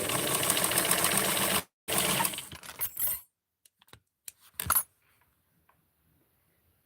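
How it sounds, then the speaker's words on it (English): A sewing machine stitches a fold into the armpit of small doll clothing in two quick, close bursts of rattling needle strokes, followed by a few faint clicks and handling sounds before near silence. "I am sewing the fold for the armpitties."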